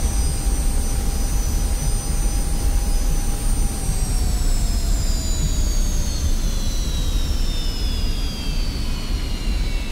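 F-86 Sabre jet engine in the DCS combat flight game, a loud steady roar with a high rising whine held at full power on the taxiway, constant and close throughout with no talk.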